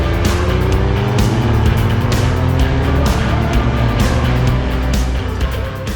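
A high-revving 2026 Dodge Charger R/T Blacktop engine, rated at 420 horsepower, roars steadily and loudly throughout on a race track, close by, with gear-change dips in pitch and no voices.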